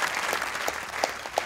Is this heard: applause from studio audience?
yes